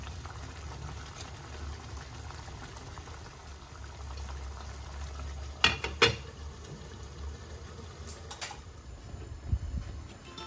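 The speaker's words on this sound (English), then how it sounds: "allow the gravy to simmer for another 2-3 more minutes." Prawn curry gravy simmering in a pan produces a soft continuous bubbling over a low stove hum. A few sharp taps and clinks break in briefly partway through, and no one speaks.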